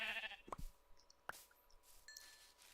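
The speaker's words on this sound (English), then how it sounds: "But now sheep seem to be very abundant." Game sheep bleat twice in short bursts, close and fairly clear, with faint clicks and soft electronic tones around them in an otherwise quiet scene.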